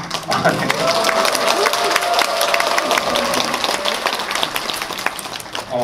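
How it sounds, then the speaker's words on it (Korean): An audience applauds at a film talk event in a cinema, sustained clapping from a large crowd filling the whole stretch, with a voice briefly heard over it. "제가 오늘 태어나서 가장 많은 박수를 받는 것 같아요"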